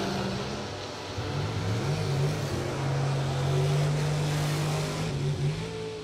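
Drag race cars launching at a racetrack: a rising engine roar that climbs steadily in pitch, loud and sustained over about six seconds, with no talk.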